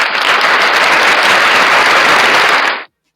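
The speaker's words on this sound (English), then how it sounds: "Let's give them a round of applause real quick." Dense, loud applause fills the space evenly for nearly three seconds, then stops abruptly, leaving silence.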